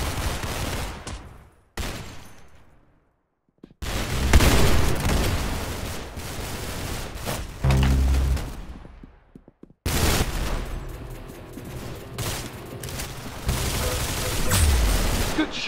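Gunfire fills a round of the Roblox shooter Arsenal on its aircraft map: dense, rapid bursts of shots and booms rattle almost continuously, with two brief near-silent gaps.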